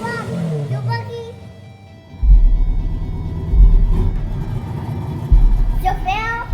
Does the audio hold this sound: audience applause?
no